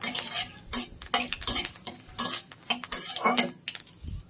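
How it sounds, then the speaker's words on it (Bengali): A spatula stirs a dried red chilli, a torn bay leaf and cumin seeds frying in hot mustard oil, making rapid repeated scrapes and clatters against the pan over a light sizzle, close up and without speech. "এটা খন্তিতে একটু ভেজে নেবো"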